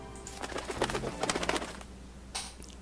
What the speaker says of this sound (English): Suddenly the sound of flapping wings came from down the hallway